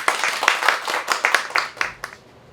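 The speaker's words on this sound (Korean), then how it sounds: "큰 박수로 모시겠습니다" Audience clapping at a Korean literary tour event, close and fairly loud, with distinct sharp claps standing out from the crowd's patter before fading out toward the end.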